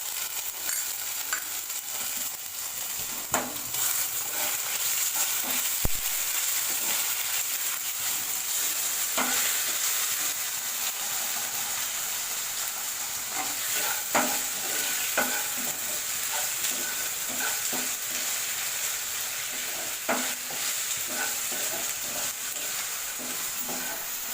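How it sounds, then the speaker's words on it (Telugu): Ginger garlic paste frying in a pan for paneer curry makes a continuous bright sizzle, with occasional scraping taps as it is stirred throughout. "ఇందులో ఒక స్పూను అల్లం వెల్లుల్లి పేస్ట్ కూడా వేసుకుని ఫ్రై చేసుకోవాలి"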